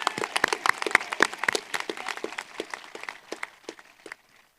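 Graduating students at a high school graduation ceremony clap for themselves, a scattered round of individual claps that starts lively, thins out and trails off into silence.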